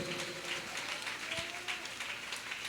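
A church congregation at a New Year service claps loudly together, a dense, sustained wash of applause filling the whole moment with no break.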